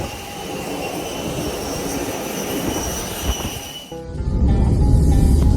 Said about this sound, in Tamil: இஸ்தாம்புலிலிருந்து விடிய காலை 5:30 மணி அளவில் புறப்பட்ட இந்த விமானம் காசியாந்தெப்புக்கு 7:30 மணி அளவில் தரையிறங்கியது